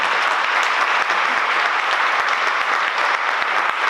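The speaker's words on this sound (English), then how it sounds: "And can we have applause for them?" Sustained, dense applause from a gala audience at a trustee associates event, loud and close, steady clapping throughout without pause.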